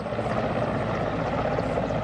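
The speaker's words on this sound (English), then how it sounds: "Military helicopters were conducting sorties, scanning the area." Military helicopter flying over an area after an attack, its steady rotor and engine drone filling the whole clip as a continuous, fairly close roar with no talk.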